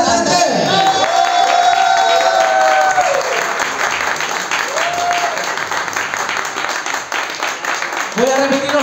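An audience applauds a contestant in a bar talent show, sustained loud clapping and crowd noise filling the room, with a sung or spoken voice and stray tones sounding over it near the start and end.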